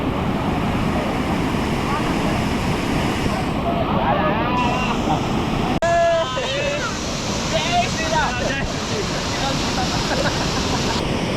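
Water rushes continuously at Chinchoti waterfall near Naigaon, a loud broad roar mixed with wind buffeting the microphone, while people's voices and shouts rise briefly over it.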